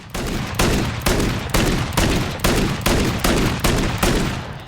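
Winchester Model 1887 lever-action shotgun fired in Call of Duty Modern Warfare III: about nine loud, booming blasts in a quick, even rhythm, each with a short decaying tail, with no talking.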